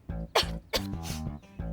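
A woman coughs several times in a short, uneven burst, close and fairly quiet, with no talking during the coughs.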